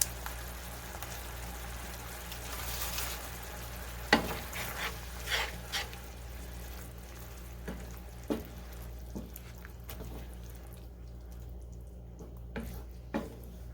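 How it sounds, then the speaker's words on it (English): About two tablespoons of butter melting in a pan for beef stroganoff, a soft low sizzle with occasional light taps of a utensil, fading quieter toward the end. "I'm going to let that butter melt"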